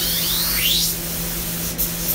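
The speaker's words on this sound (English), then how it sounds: "That's the sound of the material going up through the siphon, coming out the nozzle" Siphon-feed spray gun at about 40 psi atomizing finish through its nozzle, a steady close hiss of air and material with a faint low hum underneath, holding even for about two seconds.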